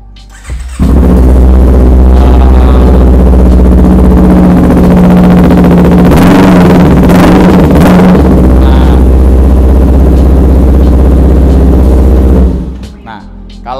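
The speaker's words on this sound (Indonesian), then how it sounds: "Kita dengerin dulu" A Kawasaki Ninja R9 motorcycle's exhaust roars loud and close, holding a deep sustained rev with a brief surge in the middle before cutting off near the end.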